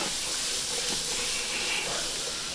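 Hot shrimp frying in a pan for Cajun shrimp deviled eggs, heard as a steady, even hiss and sizzle that runs without a break.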